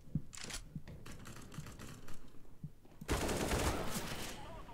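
AK rifle fire in the video game CS:GO: faint clicks and scattered shots at first, then a loud, dense burst of rapid automatic fire that fills the rest of the moment.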